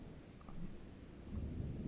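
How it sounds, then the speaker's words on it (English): Low distant thunder rumbling through a thunderstorm, faint and continuous with a soft swell near the end, heard alone with no talking. "The thunder is still really scary."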